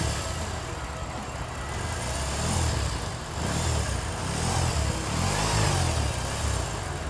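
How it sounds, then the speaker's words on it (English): A BMW R18 motorcycle engine starting and settling into a low, throbbing idle, with the rumble swelling slightly partway through, heard alone at close range. "While starting the bike,"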